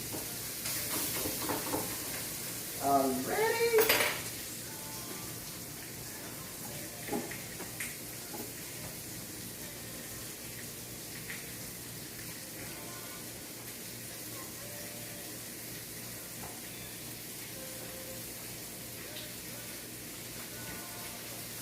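Garlic, onions and mushrooms sautéing in a pan give a soft, steady sizzle, with a few louder clatters of stirring early on and a faint voice in the background.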